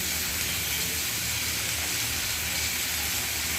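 Thin-cut potato strips dropped into hot oil in a village-style kitchen give a steady, loud hiss and sizzle that holds evenly throughout, with no voices.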